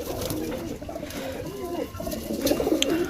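A pigeon coos close by in soft, throaty, repeated phrases, with faint background sounds and a murmuring voice.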